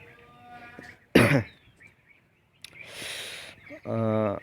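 A person recovering from Covid-19 at home coughs in a couple of harsh bursts, one sharp hack followed later by a longer rasping cough, close and fairly loud against a quiet room.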